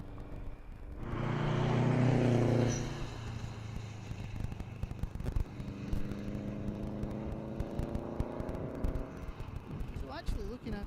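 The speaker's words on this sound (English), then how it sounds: "Another Impreza." A Subaru Impreza rally car passes on a Scottish rally stage, a loud engine roar swelling and peaking early before fading into a steady distant drone, with spectators chatting over it.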